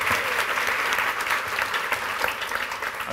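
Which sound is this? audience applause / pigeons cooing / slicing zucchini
audience applause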